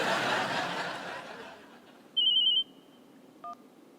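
A landline telephone is dialed in a household scene, giving a short steady electronic keypad tone followed by a brief second beep after a noisy stretch.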